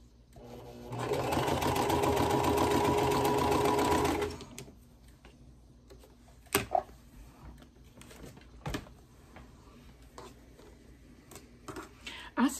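A sewing machine stitches quilt block seams in one steady loud run of about three seconds, then stops; afterward only faint handling clicks and soft rustles remain.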